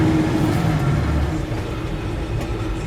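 A 1964 Chevy C10 shortbed pickup truck drives in first gear, its engine giving a steady, close low rumble that eases slightly partway through, with no talking.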